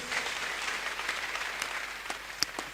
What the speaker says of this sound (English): All right, a round of applause for that, please.